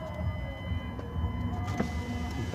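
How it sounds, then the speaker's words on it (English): A power window on an 88-98 OBS Chevy/GMC truck runs down with a steady electric motor whir over the idling engine, lasting the whole moment with no talk. "Put the window down so I can reach through here."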